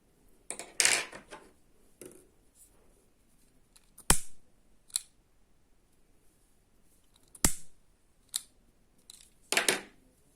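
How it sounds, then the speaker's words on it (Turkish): Scissors snipping crochet thread: several sharp, close metallic clicks and snips spaced irregularly, with soft rustling and handling noises between them in a quiet room. "ipimi kestim."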